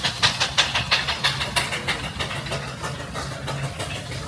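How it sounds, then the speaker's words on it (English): A Clayton and Shuttleworth steam engine built in Lincoln, running at a steam threshing festival, with a rhythmic chuffing beat that starts strong and softens slightly over the following seconds. "So great to see this engine back up again."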